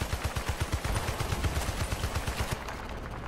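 Rapid automatic gunfire from the Vietnam-era Battlefield Bad Company 2 game in a valley battle, a fast string of loud, evenly spaced bursts that cuts off abruptly near the end, leaving quieter battle ambience.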